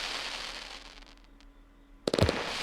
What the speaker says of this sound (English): Oh, again, the sound when it comes out of the cake.